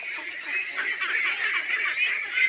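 A large flock of ducks at a netted duck farm in the Chalan Beel area of Singra, Natore, quack and honk continuously, a dense overlapping chorus at steady volume with no talk.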